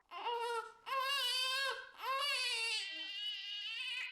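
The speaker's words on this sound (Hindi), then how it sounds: "ये बच्चे की रोने की आवाज कहाँ से आ रही?" A baby wails in long, high, sustained cries, loud and close, broken by brief breaths between outbursts, with no other sounds.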